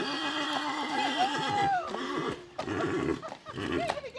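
A horse neighs in a long, loud whinny close by, with shorter snorts and movement after, in a barnyard setting with no talk.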